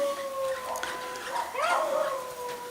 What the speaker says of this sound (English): Those dogs in the background are really annoying.